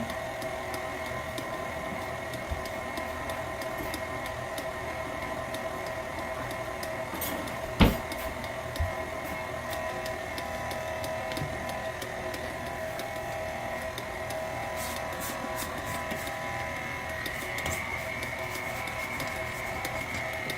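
A stand mixer runs on its lowest stir setting as it kneads pizza dough, making a steady whirring hum throughout with a single sharp knock partway through.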